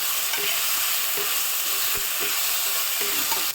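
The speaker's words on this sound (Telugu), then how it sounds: "పుదీనా, కొత్తిమీర వేసి వేయించుకోవాలి." Mint and coriander leaves frying in a pan for mushroom pulao, giving a steady, loud broadband sizzle with soft scraping stirs throughout.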